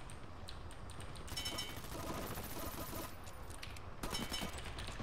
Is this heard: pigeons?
no